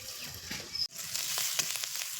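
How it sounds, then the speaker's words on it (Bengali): Spices for a crab curry fry in a pan with a continuous hiss and crackle, cut off for an instant before the sizzling resumes, with no voices. "তাই মশলা ভাজা হয়ে গেছে"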